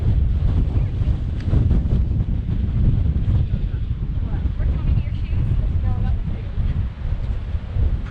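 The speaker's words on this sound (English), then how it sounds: "Very windy up here today" Strong wind buffets the microphone at Makapu'u Lighthouse Point on a Hawaii clifftop, a loud, steady roar with gusty low rumble throughout and no pauses.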